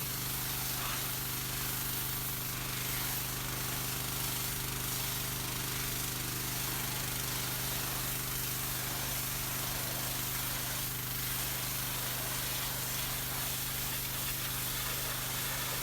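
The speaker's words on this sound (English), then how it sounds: "And back to spraying." A steady, loud hiss of a pressure washer spraying continuously onto weathered, rot-damaged log home wood, with a low engine hum running underneath throughout.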